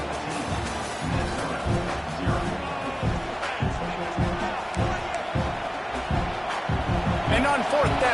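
Stadium crowd noise in the college football video game CFB26 during a fourth-down field goal attempt: a steady roaring, rumbling crowd with rhythmic thumping, under ongoing commentary talk.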